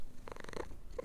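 A cat purrs close to the microphone in a short, soft burst of rumbling purr.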